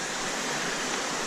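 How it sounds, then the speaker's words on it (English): A mountain stream in Vermont woods rushes with a dense, even, nearby roar of flowing water, constant and unbroken with no voices. "These streams are beautiful"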